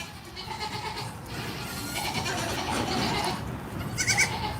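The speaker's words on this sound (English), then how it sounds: "Is there a goat out there?" A goat bleats outdoors on a dairy farm, several wavering calls against a steady background of wind and rustling, one louder and nearer bleat near the end.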